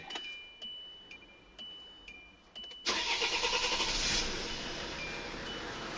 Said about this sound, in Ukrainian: Все, ось бачимо, машина завелась.